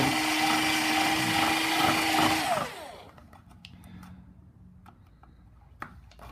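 A power drill whirs loudly and steadily for a few seconds, then winds down and stops, leaving faint clicks and handling noises.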